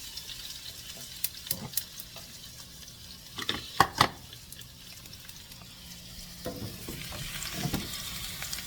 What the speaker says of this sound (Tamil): வானலில் போட்டுக்கிறேன். அது பொரியும்.